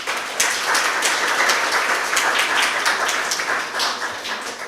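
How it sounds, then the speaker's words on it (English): An audience at a public startup pitch day applauds the presenting teams, a full, steady round of clapping with distinct individual claps standing out, lasting several seconds before tapering slightly. "Please give yourself a round of applause"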